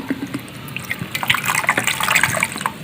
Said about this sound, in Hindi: और 1 लीटर पानी डालेंगे हम इसमें।